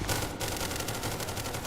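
Automatic gunfire aimed at a zombie in the video game SCP: Secret Laboratory, a continuous rapid stream of close, loud shots with a brief break early on before the burst carries on.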